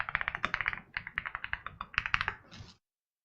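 Rapid typing on a desktop computer keyboard: a quick run of crisp, close key clicks in bursts that stop abruptly after nearly three seconds.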